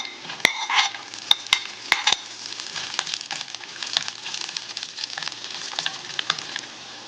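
Chopped ginger and garlic sautéing in a pan make a close, continuous sizzle, punctuated by clinks and scrapes from stirring.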